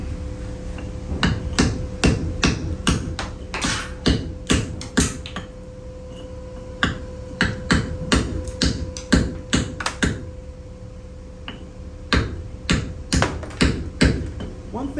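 A carbide tool chips at the edge of stone veneer in sharp clicking and cracking strikes, some in quick clusters and some spaced apart, close and crisp, with a short lull midway and a voice talking occasionally.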